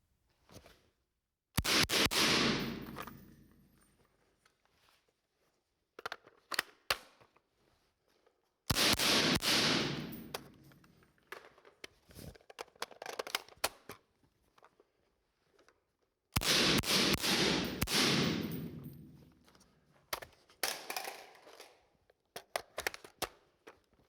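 An IWI Tavor 7 bullpup rifle fires at 5280 Armory during tactical magazine changes: three loud strings of rapid, sharp shots separated by quiet pauses, each burst trailing off into scattered single reports.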